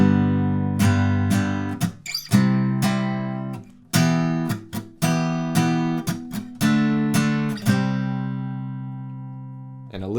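A guitar plays the first tab line of a song, ringing chords broken by short muted gaps in a steady repeating rhythm for about ten seconds, close and clear with no talk.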